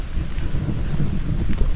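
Low thunder rumbles under steady rain on the outskirts of Rome, a deep rolling roar with a soft hiss of falling rain and a sharper crack near the end, with no voices.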